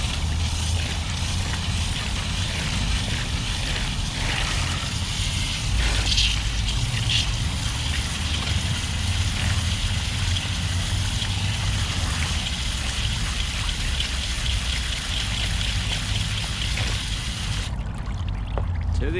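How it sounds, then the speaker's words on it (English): Outdoors, running water pours steadily over a tie-dye shirt as it is rinsed clear, a continuous gushing splash that holds at an even level throughout, close to the microphone, with no voices. "get it rinsing kind of clear out here"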